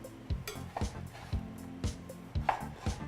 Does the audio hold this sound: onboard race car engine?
no